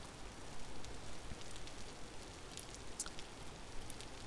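Steady, fairly faint rain hisses evenly in the video game Vintage Story, a dense wash of drops with a few brighter taps rising above it, and no voices.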